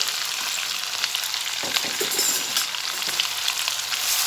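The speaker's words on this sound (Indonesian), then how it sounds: "Ini 1 sendok kayak gini digoreng terpisah." A spoonful of grated coconut serundeng fries on its own in hot oil, giving a loud, continuous dense sizzle with faint stirring scrapes and no voices.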